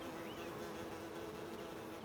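Bees buzzing around hives in the Kew Gardens quarantine zone, a dense continuous droning hum from many insects, close and steady.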